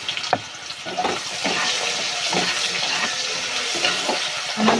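Potatoes and green chilies frying in plenty of fish oil in a pan, a steady close sizzle with crackling bursts and occasional stirring scrapes throughout.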